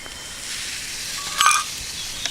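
Tea sizzles in a pot over a campfire at a hammock campsite, a steady soft hiss with a faint clink near the end.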